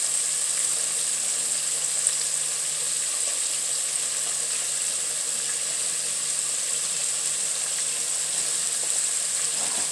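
Chicken wings frying with onion in a pan, giving a steady, loud, even sizzle that runs unbroken from start to end with no talking.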